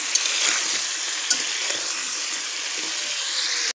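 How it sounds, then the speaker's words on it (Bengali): Potatoes fry until reddish in oil over a wood-fired village stove, crackling in a constant loud sizzle with a couple of faint utensil clicks before cutting off abruptly. "লাল লাল আলু ভাজা"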